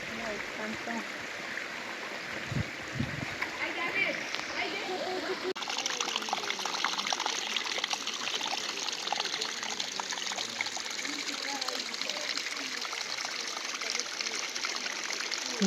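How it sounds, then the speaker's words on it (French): Water gushes and cascades from a mountainside at Roquefort-les-Cascades, a steady close trickling and splashing stream heard continuously, with a person speaking over it early on. "L'eau jaillit des entrailles de cette montagne."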